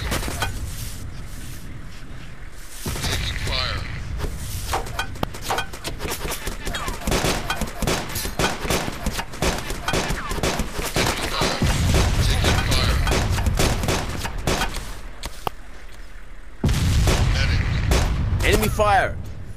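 Dense gunfire and booming artillery from a realistic war video game roar almost continuously, with rapid overlapping shots and heavier blasts, loud and close, while voices call out beneath the combat.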